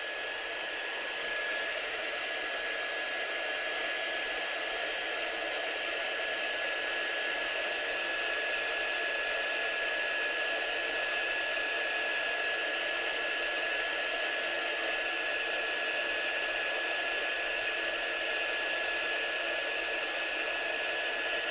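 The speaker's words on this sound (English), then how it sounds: "what I'm doing heat setting this right now is that I'm not holding it over as long as I normally do to melt it" A craft heat tool blows steadily over metallic embossing powder on stamped paper, a continuous loud hiss of fan and airflow with a faint high whine throughout, no pauses and no voices.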